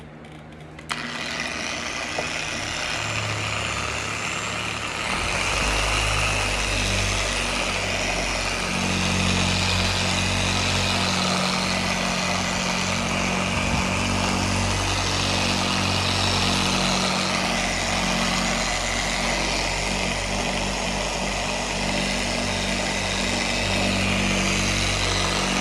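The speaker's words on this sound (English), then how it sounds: "we went ahead and ran that buffing compound" An electric polisher buffs a hazy car headlight with buffing compound, a loud continuous motor whine that starts up after a short quieter stretch and then runs steadily without a break.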